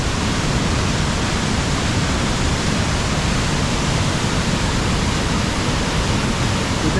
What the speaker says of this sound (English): But that is Triberg waterfalls, the triple waterfall.